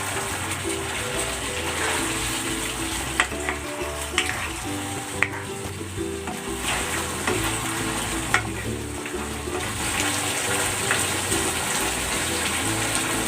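Chicken pieces fry in a pan for a Filipino chicken dish, a steady close sizzle and crackle throughout with occasional stirring scrapes and small pops.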